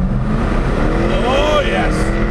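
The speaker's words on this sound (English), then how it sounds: "It's also got launch control. Let's see how well that works." Jaguar F-Type launching hard under launch control on an empty road, a loud engine roar heard from inside the car with pitch sweeping upward over a couple of seconds.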